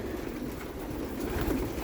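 Soft, low cooing from a blue female racing pigeon, faint and continuous under a light background hum.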